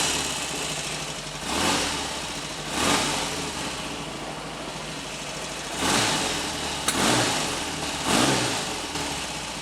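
A Royal Enfield Constellation motorcycle engine idles with a steady low throb, broken by four or five brief blips of revving that swell and fall back to idle, close and loud with no talk.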